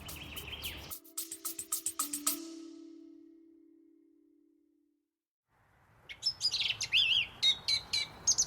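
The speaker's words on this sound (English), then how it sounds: "One of the most delightful and evocative sounds of the English countryside, Chris, the song thrush." Sharp, repeated song thrush phrases ring out loud and close at the start, a pause of near silence follows, then another burst of varied, whistled notes.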